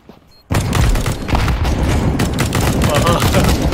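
Loud sudden blast from a grenade in Counter-Strike 2 after a quiet start, followed by a dense rumble and crackle of gunfire and impacts.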